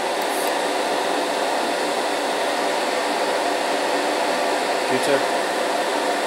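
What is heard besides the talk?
paint spray booth fan running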